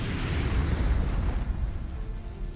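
An explosion as a ship is hit by fire during the Pearl Harbor strike in the strategy game Strategic Mind, a heavy, loud, deep rumbling boom that slowly fades.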